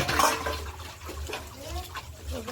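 Running water splashes steadily while small dishes are scrubbed and washed by hand at a sink, a continuous close wash with faint clinks and a low hum underneath.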